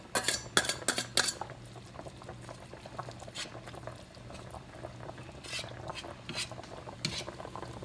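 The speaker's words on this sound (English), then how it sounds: "Mix that in really well." Green chili is mixed into a wet chicken filling in a pot, with soft squelching stirs and scattered sharp utensil clinks against the metal, close and fairly quiet.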